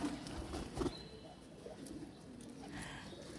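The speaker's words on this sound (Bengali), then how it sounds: "ওই দেখুন সাদা পায়রাটা" A white pigeon coos faintly at a temple in the early morning, a few soft low coos in the first second against quiet outdoor ambience.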